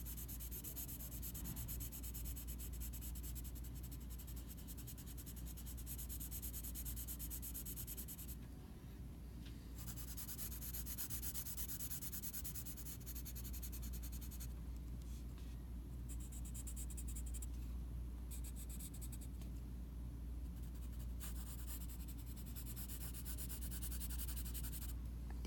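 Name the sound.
pencil shading in a surface on a technical drawing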